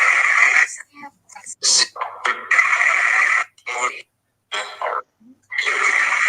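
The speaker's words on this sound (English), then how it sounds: "I know some people can't hear nothing, so this is white noise, guys." Spirit box radio sweep gives choppy bursts of white noise static and broken radio fragments, stopping and starting in rapid, irregular chunks, loud and close.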